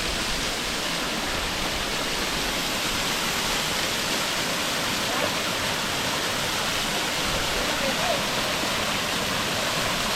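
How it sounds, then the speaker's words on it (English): Stewart Mountain River in St. Mary, Jamaica, rushes in a dense, steady roar of flowing water that fills the whole stretch without pause, loud and close, with no clear voices. "I am exploring Stewart Mountain River"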